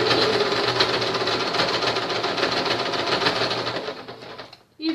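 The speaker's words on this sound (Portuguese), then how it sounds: "Vou ajudando com a minha mão a máquina na costura" Domestic sewing machine stitching fabric for a craft project while the fabric is guided through by hand, a loud close rapid whirring hum that runs steadily, then slows and stops near the end.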